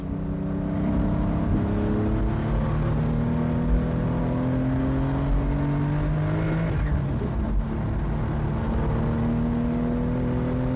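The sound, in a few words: Porsche 911 Carrera T 2026 accelerating through gears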